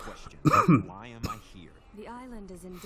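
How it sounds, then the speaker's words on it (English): A quick throat-clearing cough bursts out once, followed by someone speaking in a calm voice. "Sorry, I had a bit of a cough there."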